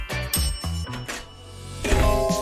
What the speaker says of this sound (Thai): คุณกดกระดิ่งหรอครับ